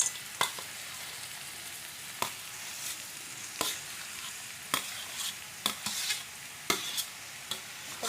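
Mashed potato for vegetable chops fries in a pan with a soft steady sizzle, punctuated by repeated clicking and scraping strokes of a spatula as it is stirred, close and without talk.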